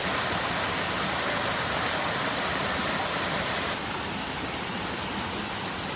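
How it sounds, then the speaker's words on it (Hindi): Waterfall roaring steadily in dense forest near Gupt Bhimashankar, a broad continuous rush of falling water that stays loud and unbroken throughout with no voices over it. "तो वहाँ पर ऊपर वाटरफॉल है,"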